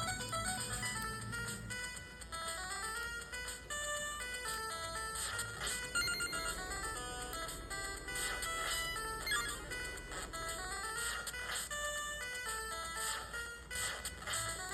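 Loud, bright chiptune-style game music from an Anbernic RG353V handheld emulator plays continuously, with busy electronic melody lines over a steady beat and no talking.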